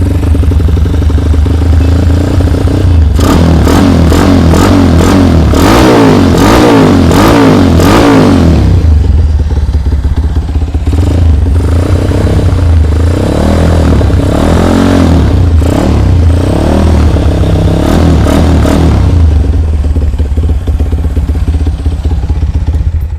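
A Honda CB100 motorcycle with stainless exhaust and SND carburettor idles loudly close by, then revs sharply several times in quick bursts, with a rougher throttle run later before settling back.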